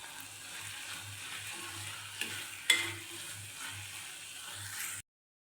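Ground green chillies and turmeric being stirred into a frying pan, with a steady soft sizzle, scraping stirs and a sharper clack near the middle, close and without talk.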